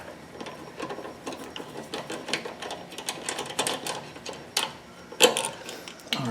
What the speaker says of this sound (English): So we can break it loose with the ratchet.